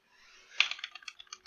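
Quick burst of typing on a computer keyboard, a run of light close clicks and taps at an uneven pace, with no talking.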